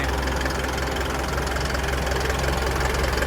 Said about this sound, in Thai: ตอนนี้เราเปิดเครื่องทำความเย็นไว้